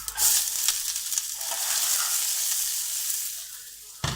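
Cabbage, ginger and tomato sauce hit a hot wok and fry with a loud, steady sizzle that crackles on without pause, close by and with no voices.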